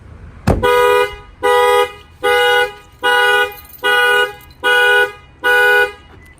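A thump on the glass sets off a Toyota Tundra truck's shock-sensor alarm that blares in seven evenly spaced horn bursts, close and insistent, with no talking.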